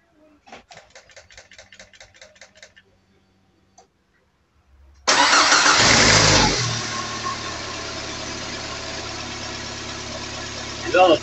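Peugeot 206 CC S16, fitted with new hydraulic valve lifters, has its engine start after a few faint ticking clicks: a loud cranking burst that settles into a steady, close idle hum with light mechanical chatter.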